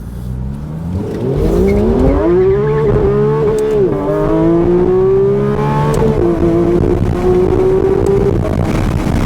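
A $400,000 car accelerates hard onto a highway from a right turn, its engine rising loud and close through several climbing gear pulls with no talk over it.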